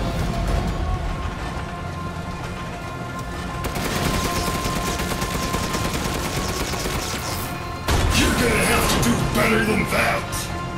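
Gunfire in the video game Resident Evil Village, with dense, continuous shooting through the whole stretch that gets louder near the end, under frequent excited speech.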